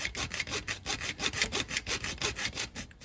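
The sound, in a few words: cutting into Porsche Boxster 986 engine for IMS bearing fix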